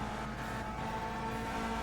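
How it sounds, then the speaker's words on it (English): A front-engine race car in a 1965 Langhorne 100 pack race in the Indianapolis 500 Evolution racing game drones steadily at close range, a loud continuous engine note with a faint tyre hiss throughout. "he's bringing that front engine car right up to the front as he passes me for 9th"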